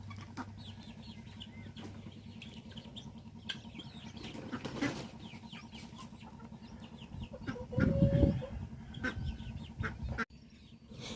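Native chickens cluck and scratch nearby at feeding time, with a sudden burst of wings flapping partway through; no one speaks.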